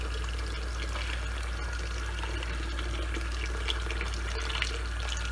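Tap water runs steadily and close up over shredded zucchini being rinsed in a sink, a continuous even splashing stream with no talking.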